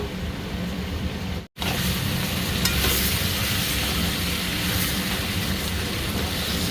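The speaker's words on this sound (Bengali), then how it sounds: "ভালো মতন মশলার সাথে ভাজা হয়ে গেছে" Ginger garlic paste and chili powder fry in hot oil with a loud, steady sizzle and stirring scrapes, broken by one brief silent gap, no voices.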